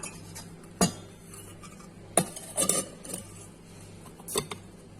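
A herb storage container holding mint and coriander is closed with its lid, giving a few sharp plastic clicks and knocks with quiet handling rustle between them.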